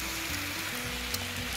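Schnitzels sizzle in an ovenproof frying pan, a dense, steady crackling hiss with a low hum beneath it and no talking.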